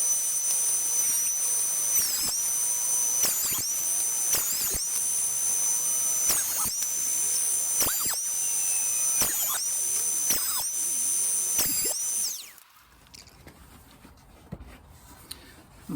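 An electric planer with a vacuum hose attached, set up on a Workmate, planes wood with a high, steady whine. The whine dips briefly at regular intervals between passes, then cuts off near the end, leaving quieter background.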